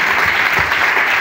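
A church congregation at a morning prayer gathering claps and cheers loudly, a dense, steady wash of applause filling the whole moment without a break.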